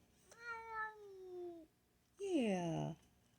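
A kitty meows twice, long drawn-out calls close to the microphone, the second rising and falling, with quiet pauses between.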